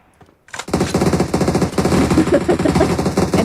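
Automatic gunfire in PUBG during a tournament match: after a short quiet moment, a loud sustained burst of rapid shots starts and keeps hammering at close range for several seconds.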